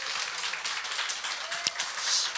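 An audience at a church seminar applauds with dense, steady clapping that swells slightly toward the end.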